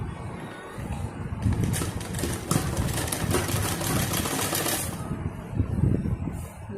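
A sewing machine runs in one steady burst of whirring, rattling stitching as lace is sewn onto a dupatta, close and fairly loud, with quieter handling noise before and after.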